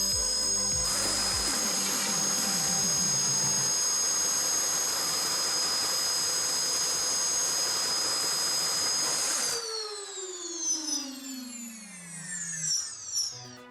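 A high-end Nerf blaster's flywheel motors spin up to a loud, steady high-pitched whine close by, then wind down with falling tones and a few sharp shots in quick succession.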